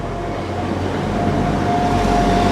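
A low, steady rumble of a train arriving at a station, with a faint high whine over it, continuous and fairly loud, without anyone speaking.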